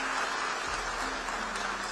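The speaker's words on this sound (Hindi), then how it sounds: "आप गया था इसकी ताली बजा रहे हो, आया हूं इसकी ताली बजा रहे हो।" Audience applause fills the room, a dense steady clatter of many hands clapping at even loudness throughout, with no voices over it.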